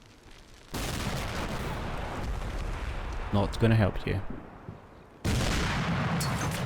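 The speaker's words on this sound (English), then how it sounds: "You can shoot your 25mm cannon at me all you want." Bradley 25mm cannon fire in Combat Mission: Cold War rumbles as a sustained, heavy barrage with a dense broadband roar, briefly broken by a few sharper bursts and a lull, while someone talks over it.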